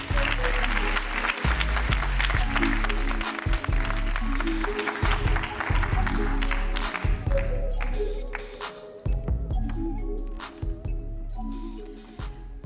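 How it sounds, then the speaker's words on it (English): Conference audience applause: a crowd claps loudly and steadily at first, then tapers into scattered claps over a low hum. Toward the end a voice begins to speak. "May I ask you for an encouraging, supporting applause for Wei Wu, the CEO of Heatrix."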